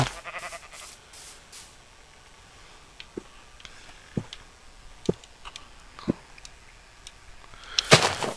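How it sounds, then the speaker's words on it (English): A sheep in a video game bleats, then crops grass with a series of sharp, evenly spaced munching clicks. Another burst of bleating closes the sequence, all fairly quiet against a hushed game background. "That sheep just nommed the grass as if it's never been fed."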